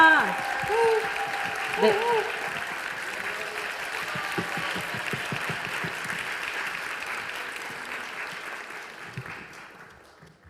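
An audience at a Yonsei University theology Wednesday worship service breaks into loud, sustained applause to welcome an alumnus speaker. The clapping holds steady for about ten seconds before fading, with a brief spoken word near the start.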